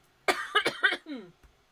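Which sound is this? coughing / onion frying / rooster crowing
coughing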